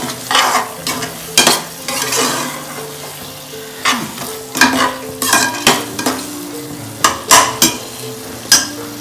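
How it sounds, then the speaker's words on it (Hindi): A spoon stirs a chilli lentil and eggplant curry in a pan, scraping and clinking in repeated close strokes over a soft, continuous sizzle, with no talking. "देखिए ना, इसको अच्छा हिलाना चाहिए।"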